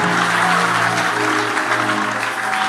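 A church congregation applauds loudly, a dense, sustained burst of clapping filling the room, close and continuous.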